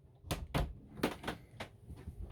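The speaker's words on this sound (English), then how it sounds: "This door here will also close." An interior door inside a Carthago Chic C-Line i4 9 L motorhome swings shut, a series of several short knocks and thuds close by, with light handling noise between them and no talk.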